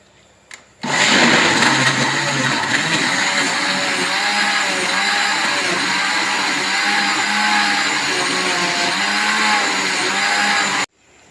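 An electric blender churns cream (malai) into butter for homemade desi ghee, a steady loud whirring motor drone running continuously for about ten seconds before cutting off abruptly.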